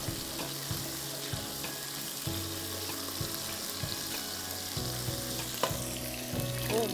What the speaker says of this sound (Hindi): गार्लिक को थोड़ा फ्राई होने दें